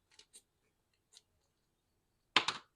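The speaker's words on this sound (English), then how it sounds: "what I'm going to do is cut it here" Scissors snip through a piece of green paper during art journal crafting, a few faint clicks followed by one louder, sharp cutting crunch near the end, heard alone in a quiet room.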